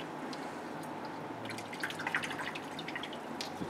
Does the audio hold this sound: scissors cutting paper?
no